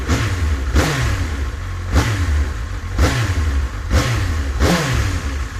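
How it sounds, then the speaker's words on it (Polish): A 2007 Honda CBF 1000 ABS motorcycle engine runs steadily nearby, revving in regular bursts about once a second. "wszystko wzorowo wygląda motocykl pięknie pracuje"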